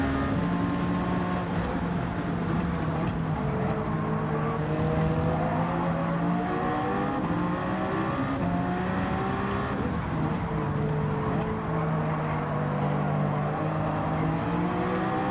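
Race car engine in Gran Turismo 7 at Watkins Glen, a loud steady drone with continuous gear-shift sweeps and revving as several cars run close together through a long endurance race.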